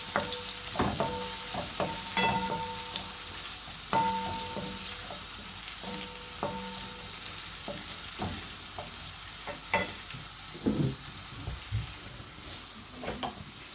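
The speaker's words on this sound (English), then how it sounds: "we're just going to pour the onion in the frying pan. It's got a little bit of oil in it." Onion sizzles steadily in a little oil in a frying pan for chicken curry while a utensil scrapes and stirs in irregular bursts, close by with no talking.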